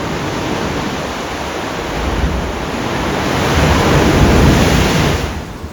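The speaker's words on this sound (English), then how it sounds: "There's an opening in the cave and you can see the waves coming through." Ocean waves surge through the opening of a sea cave on a rainy San Francisco coast, a loud, continuous roaring rush of surf that builds in the second half and then eases.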